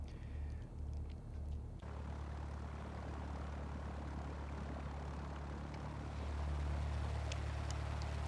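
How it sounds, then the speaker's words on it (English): Simulated Cessna 172 SP engine in the X-Plane flight simulator. A steady, droning propeller-engine rumble runs continuously throughout, growing slightly louder near the end, with no voices. "This is the plane that we're flying in today, little Cessna 172 SP."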